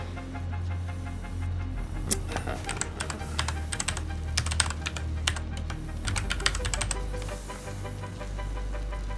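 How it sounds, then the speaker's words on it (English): Rapid, steady clicking of keys on a computer keyboard, close and distinct, runs in irregular bursts over a constant low background hum with no talking. "Okay, I'll actually have to type here for this."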